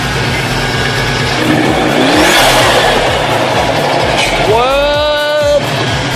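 A Subaru STi fitted with a new front mount intercooler revs hard nearby, a loud pulsing engine roar with a rising whine and a short high whistle near the end.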